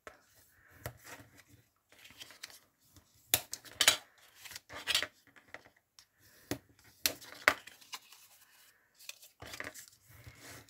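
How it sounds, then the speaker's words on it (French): Paper being folded and creased for a homemade Advent calendar box gives soft, close crinkles, rubs and scattered sharp presses, quiet and irregular with brief pauses. "Là, vous marquez bien tous vos plis."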